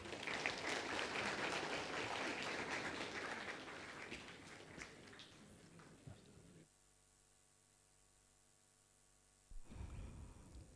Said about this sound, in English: One more time, a huge round of applause for him, please.